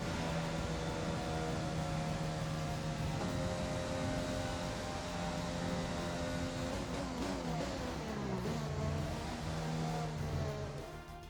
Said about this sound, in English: Race over. Take care of the car on the way in.